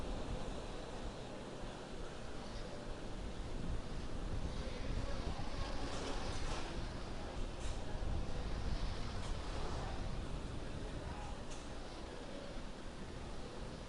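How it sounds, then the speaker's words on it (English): A SpaceX rocket powered by nine Merlin 1D engines roars during launch as it throttles back up to full power and goes supersonic. The sound is a loud, steady broadband rumble that persists throughout with no pauses. "Now we're beginning to power back up. We hear the call out exiting throttle bucket. The 9 Merlin 1D engines Mach going 1. back to full power."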